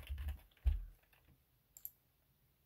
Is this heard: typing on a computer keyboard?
yes